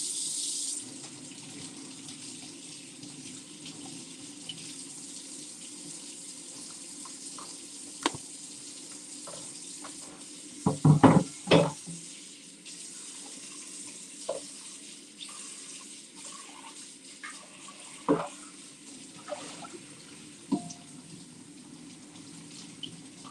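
Tap water running steadily while a cast-iron pan is rinsed in a sink, a faint continuous spray broken by a few brief knocks and clatters of the pan around the middle and later.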